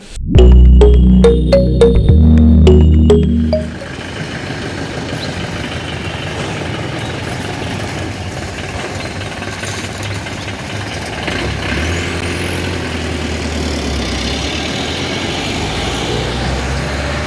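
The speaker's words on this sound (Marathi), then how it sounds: "तिची बस निघालेली आहे" A school bus pulls away from a stop, its engine rumbling steadily for many seconds after a loud burst of other sound at the start, with no talk over it.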